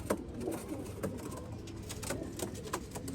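Teddy pigeons coo in soft, repeated low calls against a steady background, close and fairly quiet, with no talking.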